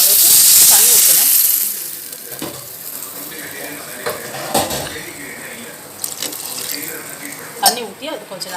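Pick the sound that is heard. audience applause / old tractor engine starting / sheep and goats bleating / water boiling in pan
water boiling in pan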